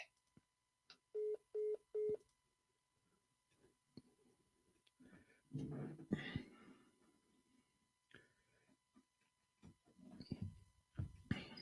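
Four short, evenly spaced touch-tone beeps keyed on a phone, quiet and close, followed by scattered clicks and brief muffled voices talking at low level.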